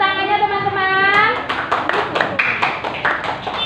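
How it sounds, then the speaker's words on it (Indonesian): Classmates applaud in an elementary classroom, a burst of scattered hand claps following a teacher's sustained sung or spoken tone, with children's voices mixed in. "beri tepuk tangannya teman-teman"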